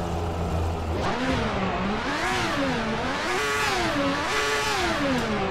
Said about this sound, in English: You hear that awesome V12 situated behind me roaring.